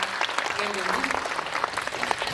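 Audience applause at a film stage talk event in a cinema, a steady dense patter of many hands filling the whole stretch, with speech-like voices mixed in underneath.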